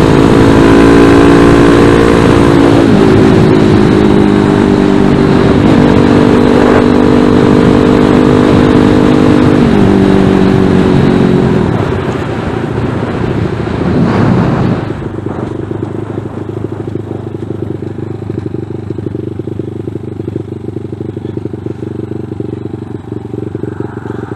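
A ZS190 Grom clone motorcycle with a regular cable clutch riding in traffic, its loud close engine note rising and shifting through several steps before dropping to a steady lower idle-like rumble.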